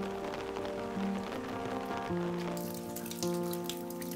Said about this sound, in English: What will Hugh hear in this tranquil village on a rainy day?